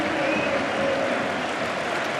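A home football crowd at a Spireites league match against Boreham Wood applauds a player leaving the pitch, a dense, steady wash of clapping heard from a distance.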